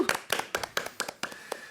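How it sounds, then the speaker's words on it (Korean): Sparse hand claps from a small group on a Korean opera talk show, about seven sharp, close claps in an uneven rhythm with no talking. "박수!"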